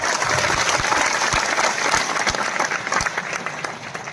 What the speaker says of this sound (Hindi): तो एक बार तालियां उठाइए, जोरदार तालियां।